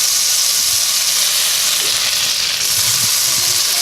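Cheese melting and cooking in a hot pan for a keto meal, giving off a steady, close, loud sizzling hiss that holds evenly with no talking.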